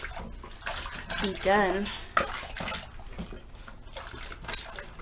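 Dishes are washed under running tap water, splashing and rinsing with occasional clinks of plates, while a voice briefly talks over it.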